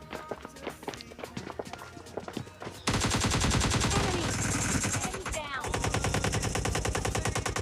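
Rapid, loud bursts of AKM rifle fire in PUBG Mobile Lite during a close-range rush fight, with sustained automatic gunfire filling the second half after quieter scattered shots and footsteps at the start.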